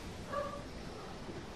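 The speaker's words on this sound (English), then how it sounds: "the dog barking upstairs" A dog barks upstairs in a house, a brief, faint, muffled yip heard once at a distance against quiet room noise.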